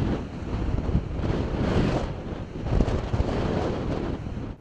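Storm-driven waves pounding the harbor at Karaburun in Arnavutköy, Istanbul, with a constant roar of surf and heavy wind buffeting the microphone, rising in surges as the waves hit, with no voices.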